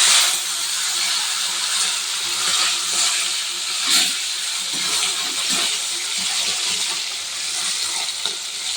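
Lata fish frying in a pan for a Bengali eggplant curry, a steady broadband sizzle and hiss running close and continuous, with a few brief louder spits and crackles.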